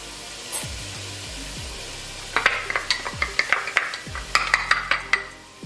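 Minced garlic sautés and sizzles in a pot for red beans and rice, with a steady frying hiss broken by a run of quick scraping stirs and clinks of a utensil against the pot in the second half.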